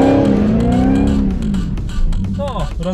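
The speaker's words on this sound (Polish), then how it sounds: "Trakcja ucieka, bardzo ucieka." Dodge Challenger Hellcat Redeye of 808 HP accelerating hard on Warsaw streets, a loud close engine roar rising and falling in pitch through the gears while the tyres lose traction, with brief speech-like sounds near the end.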